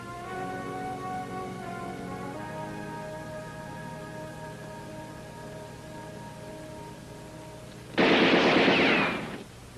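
Gunfire aimed to narrowly miss someone in a 1966 adventure film, a dense, loud burst of rapid shots crackling for about a second and a half near the end, after a long held musical tone with no talking.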